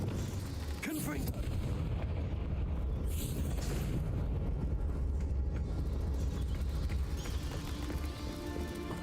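Confringo fire spell explosions in Hogwarts Legacy rumble through dense game combat noise, with a few heavy booms over a continuous loud low roar.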